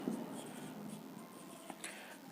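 Marker or chalk scratching across a classroom board while a maths lesson on differentiation is written out, a steady scraping strokes with a couple of sharper taps, close and fairly quiet, no speech over it.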